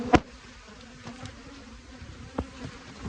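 Honey bees buzz steadily around an open hive during a spring inspection, a close, continuous drone with a few sharp taps and knocks mixed in.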